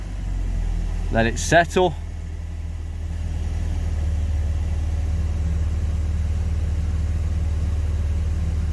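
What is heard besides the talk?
car engine idling after ignition timing change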